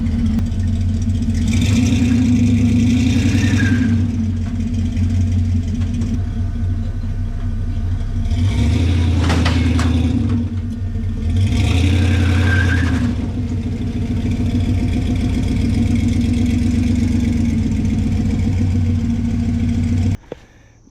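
An old tractor engine runs steadily and loud throughout, a low, clattering idle with a couple of brief swells in revs, before cutting off abruptly at the end.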